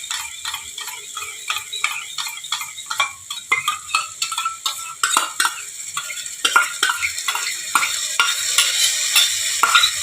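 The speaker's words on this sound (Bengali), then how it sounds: "এবারে আমি টক দইটা ফেটিয়ে আমি এর মধ্যে দিয়ে দেবো।" Whisked sour curd going into a pan of frying katla fish, a continuous bright sizzle with rapid rhythmic stirring scrapes and utensil taps, close and fairly loud.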